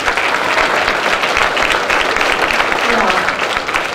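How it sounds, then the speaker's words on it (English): An audience at an elementary school fourth-grade musical gives dense, continuous applause, loud and close, with voices mixed into the clapping. "just give it a round of applause"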